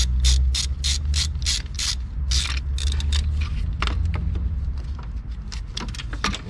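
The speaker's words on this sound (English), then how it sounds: "we have our 13 millimeter. Just gonna take that loose right there." A ratchet with a 13 mm socket loosens a bolt on a Chevy Malibu vacuum pump and valve cover. It gives rapid bursts of close, crisp clicking, pauses briefly, then goes on in sparser clicks.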